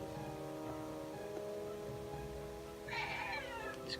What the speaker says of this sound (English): It's my cat you can hear.